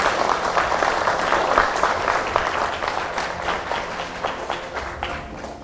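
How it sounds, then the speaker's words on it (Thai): Guests at a Chinese-style tea ceremony engagement applaud the couple, a dense, steady wash of many hands clapping that stays loud and close throughout, with a faint voice or two mixed in. "ขอเสียงปรบมือให้ทั้งคู่ครั้งค่ะ"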